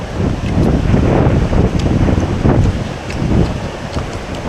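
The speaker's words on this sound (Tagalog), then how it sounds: "Lakas ng hangin." Strong wind blowing during an approaching storm, loud gusty buffeting that surges and eases against the microphone, steady and close with no talking.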